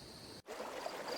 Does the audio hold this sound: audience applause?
no